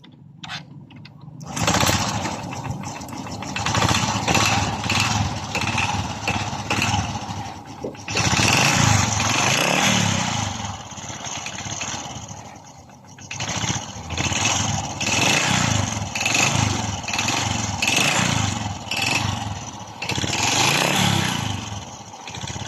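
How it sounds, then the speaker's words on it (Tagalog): A Honda motorcycle engine, freshly overhauled and reassembled, runs loud and close, its revs rising and falling in repeated bursts after a brief quiet start. "Ito na yung final na tunog pagkatapos nating ma-assemble ang kanyang makina."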